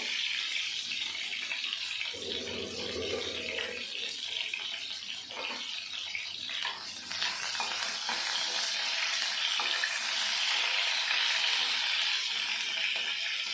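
Pointed gourd pieces frying in hot oil, a steady crackling sizzle close by that runs throughout, with a brief low clunk near the start and occasional stirring scrapes.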